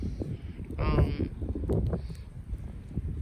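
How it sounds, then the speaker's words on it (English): Wind rumbles and buffets the microphone in uneven low gusts on off-grid land, with a short burst of brighter noise partway through. "I'm sorry if y'all can hear the wind"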